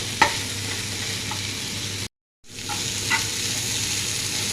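Steady sizzle of masala dosa filling sautéing in a hot pan, a continuous frying hiss broken by a few soft stirring clicks and one brief silent gap.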